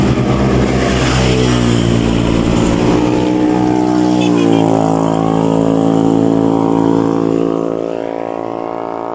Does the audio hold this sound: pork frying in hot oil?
no